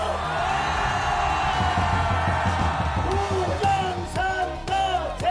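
Rally crowd at Olympic Park in Seoul shouting and cheering in a loud, sustained roar, with whoops and yells rising over the dense wash of voices.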